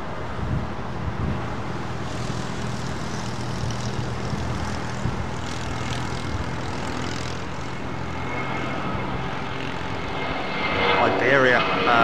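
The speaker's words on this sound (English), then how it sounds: "Iberia offering up their 350 now, you see." An Iberia Airbus A350 departs Heathrow with a steady, broad engine roar that swells slightly toward the end, heard at a distance with a voice talking over it.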